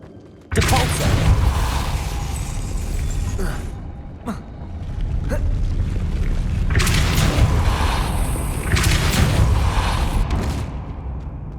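A Depulso spell cast in the Hogwarts Legacy video game, heard as a sudden loud boom that opens into sustained blasts and rumbling impacts, with several sharp bursts following close and loud.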